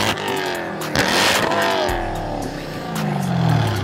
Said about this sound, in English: Straight pipe Jaguar F-Type, you guys.